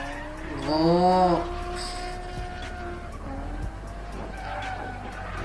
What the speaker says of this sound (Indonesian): yang tahu nih mobil apa yang hitam ini ya, yang ngedrift itu